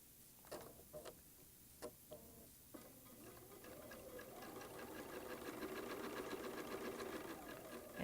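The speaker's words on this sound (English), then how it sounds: "I'm going to bring this over to the machine, and we're going to be sewing the 1/4-inch seam" A sewing machine stitching a quarter-inch seam on quilt pieces, a few quiet clicks and then a steady soft whirring hum, quiet and close.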